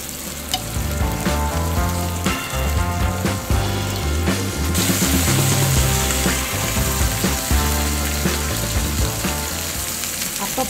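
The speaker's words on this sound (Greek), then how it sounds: "Ροδίζει από τη μια, το γυρίζουμε από την άλλη." Beef shank chunks sear in olive oil in a deep pan. The sizzle and crackle are continuous and loud, with scraping and stirring as the meat is turned, heard close with no voices.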